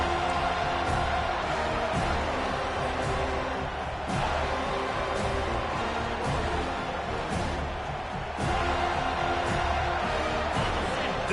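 A football stadium crowd during a WDE versus FSU game roars steadily behind the defense on third down, a dense, loud wall of crowd noise that swells and dips slightly throughout.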